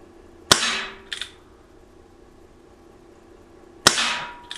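Two sharp shots from an Umarex Legends Ace in the Hole single-action pellet revolver, each crisp crack followed by a short metallic echo and a faint click, spaced a few seconds apart with no talk.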